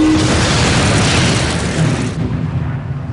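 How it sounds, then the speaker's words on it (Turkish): A torpedo strikes the aircraft carrier Courageous in a large explosion: a loud, sustained boom with deep rumbling that fills the opening seconds, then fades into a lower, rolling decay. "Tam o anda büyük bir patlama oldu."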